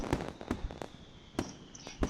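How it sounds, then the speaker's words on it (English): Fireworks at a school festival, heard as a series of sharp pops and bursts, about six distinct cracks spaced irregularly, moderately close with no talk. "Fireworks!"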